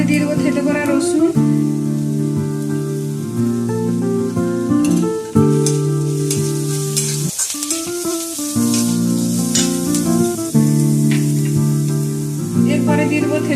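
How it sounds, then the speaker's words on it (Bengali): Crushed garlic sizzling with fried chopped onion in hot white oil in a wok while chicken singara filling is cooked at home; a steady frying hiss runs under loud, continuous background music. "এরপরে দিয়ে দেবো থেতো করা রসুন,"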